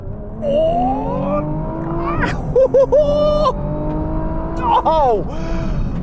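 A Nissan GT-R Nismo's turbocharged engine revs loud and close in repeated rising and falling sweeps, with sharp blips and quick drops between them. Someone talks over the engine.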